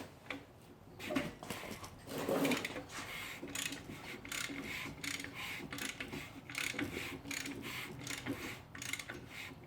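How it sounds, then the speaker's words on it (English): Assembled Honda D16 engine bottom end being turned over by hand, soft irregular mechanical clicks and rubbing rotation, faint and close, continuing steadily with no speech. "You can see we can crank it over"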